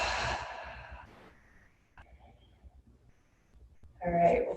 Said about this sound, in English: Deep nourishing breaths in, full breaths out.